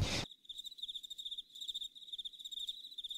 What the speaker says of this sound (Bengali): ওই ঝিঝি পোকার আওয়াজ ছাড়া আর কিছুই না।